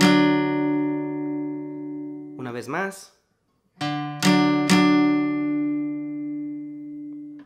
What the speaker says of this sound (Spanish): Medio tiempo en re se escucha así. Es un bajeo y dos acompañamientos.